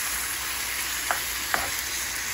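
Undrained diced tomatoes being stirred into a pot of chili, a constant sizzling hiss with a couple of soft spoon scrapes, close and alone without talk.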